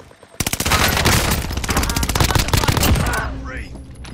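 Rapid automatic gunfire from a first-person shooter game, a dense, loud burst of shots lasting several seconds, with an excited player calling out over it.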